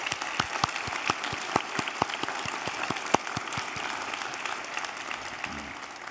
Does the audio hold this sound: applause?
yes